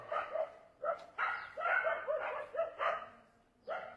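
A dog barks repeatedly at a moderate distance, a string of uneven, yelping barks with short pauses between them.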